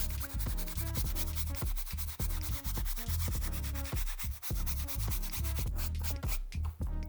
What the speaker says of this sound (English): I might as well just remove the insole and give this some scrubbing as well.